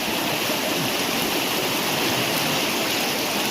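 Loud, steady rushing of the Ganges river flowing around the Girija Devi temple, a continuous close roar of water with no voices.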